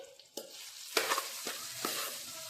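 Pieces of idli frying in a pan are stirred, bringing a steady sizzle broken by several sharp scraping stirs at irregular intervals, close and clear.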